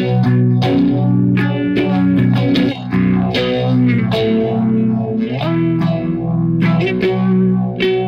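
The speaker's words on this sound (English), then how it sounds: "MXR Phase 90." An electric guitar on the neck pickup runs through an MXR Phase 90 phaser pedal into a Matamp GT1 amp, playing a loud, sustained riff with a slow sweeping phase swirl across ringing chords.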